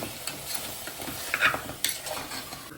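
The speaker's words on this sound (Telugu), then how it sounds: "ఇలా అయితే గట్టిగా అంతా మిక్స్ అవ్వాలి" A spoon mixes paya soup with masala in a pot, scraping and stirring with scattered metallic clinks and a soft sizzle underneath, close and moderately loud.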